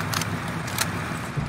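A car driven in the Call of Duty Warzone video game, its steady low engine and road rumble running throughout, with a few brief higher rattles on top.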